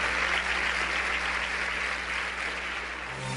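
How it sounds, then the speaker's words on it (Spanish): A church congregation at a women's congress applauds in a steady, loud wash of many hands clapping, sustained throughout with a low hum beneath and no talking. "Dele un aplauso a Cristo."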